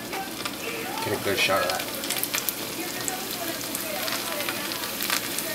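Plantain slices sizzle and crackle in a pan of hot oil, a steady bright frying hiss with occasional pops, while a person speaks briefly nearby.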